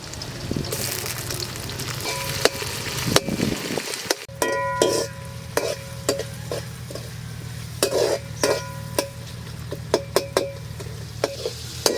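Chopped tomatoes sizzle softly as they fry in sesame oil in a pan, with a spoon scraping and stirring in irregular knocks while cooking an eggplant broth.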